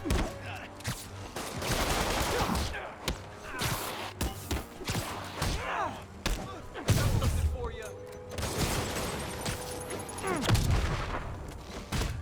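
Enemy gunfire in the Marvel's Spider-Man game, a series of sharp shots and bursts fired in irregular volleys, mixed with impacts and shouting voices throughout.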